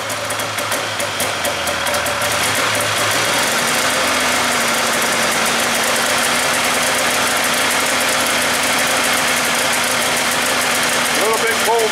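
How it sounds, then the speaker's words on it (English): A 1996 Polaris Classic snowmobile engine cold-starts with the choke set, then idles at a loud, steady, buzzy drone throughout, with someone talking over it. "I'll start her up here. This is gonna be a cold start, so set our choke and make sure my throttle's working."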